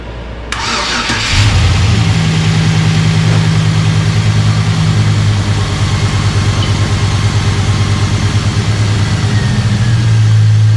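A truck engine cranks and catches about a second in, then settles into a steady, loud, close rumbling idle that runs to the end with no talking.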